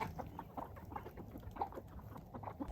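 Free-ranging backyard hens cluck in short, irregular bursts close by, a few calls overlapping over low background noise, with no talking.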